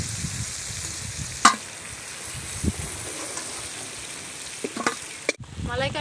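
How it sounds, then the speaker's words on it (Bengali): Prawns fry in a pan of hot oil, giving a steady close sizzle throughout, with a few sharp clinks from stirring and a brief louder burst near the end. "চিংড়িটা ভাজা হয়ে গেছে"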